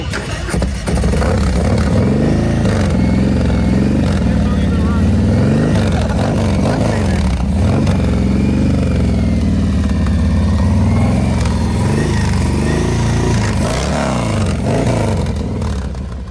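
A carbureted 2025 Harley-Davidson M8 motorcycle engine revs loudly and close, rising and falling in repeated throttle blips over a heavy, lumpy idle, with voices talking beneath it.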